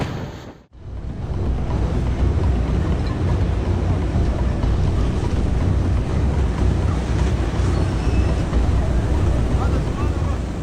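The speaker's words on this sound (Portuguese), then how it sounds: "Durante uma tempestade, o vento foi tão forte que derrubou árvores com facilidade." Strong storm wind blowing hard and steadily for about ten seconds, a dense roaring rush that buffets the microphone after a brief dip at the start, with no talk.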